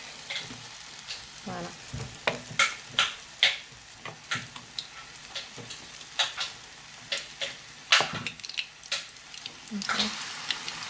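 Cauliflower croquettes fry in a pan, a steady close sizzle broken by frequent sharp crackles and pops, with someone talking briefly over the cooking.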